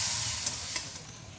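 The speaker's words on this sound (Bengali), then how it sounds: "সামান্য একটু হলুদ আর একদম অল্প পরিমাণে লবণ দিয়ে এটাকে ভেজে নেব" Taro root (kochu mukhi) fries in a pan with a little turmeric and salt, giving a steady, close hiss of sizzling oil with faint stirring for a brief moment.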